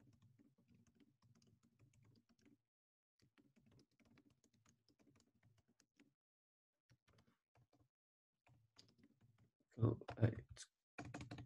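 Keystrokes on a computer keyboard come in soft, fairly steady bursts with brief pauses between them, then grow louder and sharper near the end. No voice is heard.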